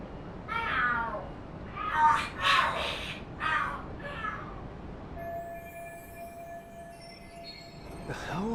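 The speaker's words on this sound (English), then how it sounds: "Are there cats fighting?" Cats yowl and screech in a fight in the video game Lost Judgment, several harsh wailing cries in quick bursts at close range, then quieter ambience with a faint whine before one more cry at the end.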